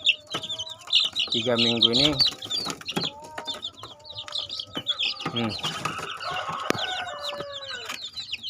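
Chicks cheep rapidly and chickens cluck nearby, with a rooster-like call, while someone talks over the birds.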